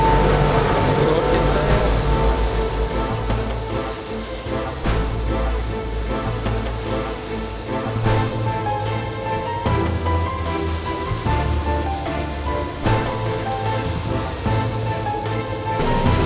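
A large feed mixer with a 15 kW motor runs steadily in a feed pelleting plant, with a deep motor drone and churning rumble, continuous and loud throughout, with occasional clunks.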